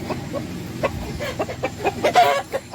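Roosters clucking in short, irregular bursts at close range on a farm where breed chickens are raised, with several overlapping calls and a louder cluster near the end.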